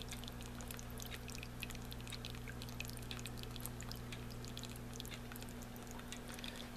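Water trickles steadily over a lava rock tabletop fountain, a soft continuous splash-free burble with faint drips, alone and even throughout.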